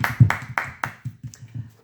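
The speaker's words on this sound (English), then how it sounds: "Give you a round of applause." Sparse hand claps at a short closing round of applause for a good explanation: about four crisp, close claps in an uneven rhythm, then a few softer ones trailing off.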